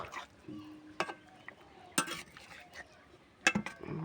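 Fish curry with spinach stirred in a pot after sugar is added, heard as sharp metal spoon clinks and scrapes against the pan at irregular intervals, a few louder knocks standing out in an otherwise quiet kitchen.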